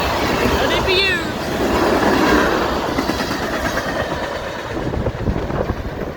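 A Union Pacific freight train with no DPUs passing on tracks at River Road in Chapel Hill, Tennessee: loud, close rumbling and clattering wheels, with a brief wheel squeal early on, then the rhythmic clack easing off as the end of the train goes by.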